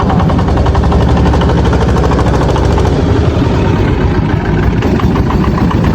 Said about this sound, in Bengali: আর ফাইনালি গাইস আমাদের নৌকাটা ছাড়ছে